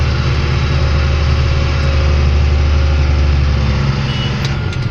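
Dump truck driving over and compacting dirt on a haul road, a loud steady engine drone with heavy low rumble, close and continuous.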